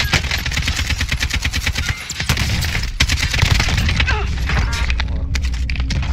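AK-47 fire in Warzone rattles in rapid automatic bursts, loud and close, with a brief pause before more shots and a few heavier single reports near the end.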